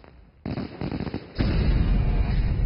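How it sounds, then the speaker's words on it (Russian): New Year fireworks and firecrackers explode across a country in a dense run of loud, crackling bursts, starting after a brief quiet moment and building into a continuous, heavy barrage with no talk. "В момент наступления Нового года по всей стране взрываются хлопушки."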